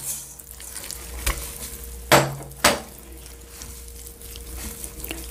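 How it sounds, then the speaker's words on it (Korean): A Korean seasoning sauce with sesame salt and perilla oil being stirred in a bowl, giving soft scraping and swirling with a few sharp clinks of the utensil against the bowl, close and fairly quiet. "양념을 휘휘 젓어서 섞어주고"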